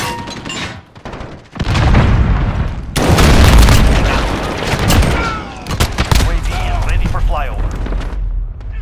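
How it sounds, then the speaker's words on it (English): A grenade detonates in a Call of Duty: Modern Warfare match with a deep boom, followed by heavy layered gunfire and rumbling battle noise that keeps going loud and close to the end. "Throwing grenade."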